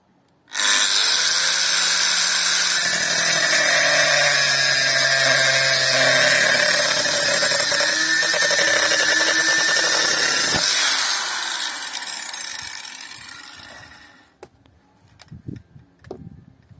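A Mächtz MAG-12/1370 CVS angle grinder at high speed cuts through clamped rebar, a loud, sustained metallic shriek lasting about ten seconds before the motor winds down and falls quiet, followed by a few faint clicks.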